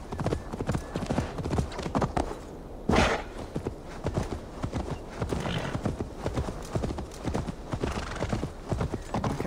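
Horse hooves clatter at a gallop in the Assassin's Creed Valhalla video game, a steady rapid clip-clop throughout with a brief neigh partway through, loud and close over faint game ambience.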